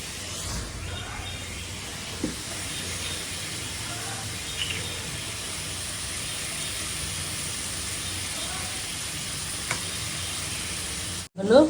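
Masala spice paste sautéing in a pan gives a low, continuous sizzle and hiss, with a few faint stirring knocks and a brief clatter at the end.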